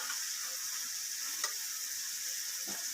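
Garlic fries in a pan with spiced minced meat and yogurt, a faint, steady sizzle with a few soft stirring clicks.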